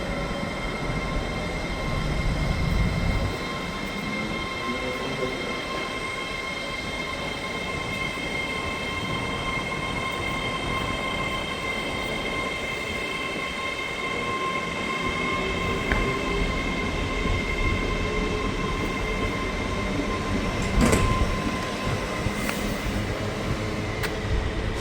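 A London Northwestern Railway train at Crewe station rumbles steadily with a sustained electric whine and tonal hum, wheels clanking faintly and a brief sharp squeal near the end.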